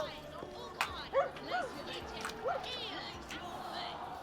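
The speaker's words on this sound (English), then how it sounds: "I heard a puppy!" A stray puppy in the video game The Vale gives a few short yips and whimpers, thin and high, spread across a few seconds over a low ambient game background.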